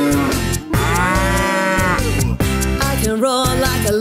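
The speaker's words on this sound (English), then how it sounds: "I can moo like a cow to the music." A long, drawn-out cow moo rises and falls over a bouncy children's farm-animal song, loud and close, repeating across the short stretch with steady backing music and no talking.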